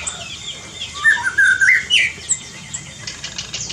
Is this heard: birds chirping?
yes